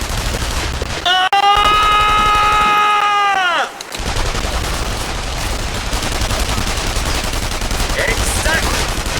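Heavy gunfire rattles in The Saboteur, the 2009 PC game, with loud, dense bursts over a tonal alarm-like whine, then continuous crackling shots against noisy action.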